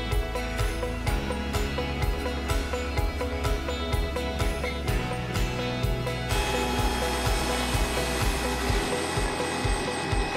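A helicopter flies over Zion National Park with a continuous loud engine roar and rapid rhythmic rotor chopping throughout, with no talking.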